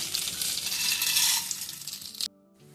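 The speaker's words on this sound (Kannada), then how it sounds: "ಸಾಸಿವೆ ಹಿಡಿದ ಮೇಲೆ ಉದ್ದಿನಬೇಳೆ ಹಾಕೋತೀನಿ" Mustard seeds and urad dal sizzle and crackle in hot oil, a dense steady frying hiss for about two seconds before cutting off abruptly, followed by quieter faint clinks.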